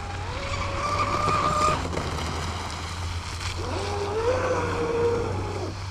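A ProBoat Blackjack 42 RC speedboat engine whines and revs over water, its pitch rising and falling in two bursts with a low steady hum underneath.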